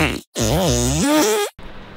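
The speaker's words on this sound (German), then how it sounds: "So ein Furzeffekt." A fart sound effect plays at a trampoline park, a loud, wobbly, buzzing blat with a bending pitch that lasts about a second, standing alone with no talk over it.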